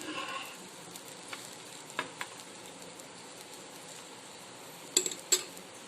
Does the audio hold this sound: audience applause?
no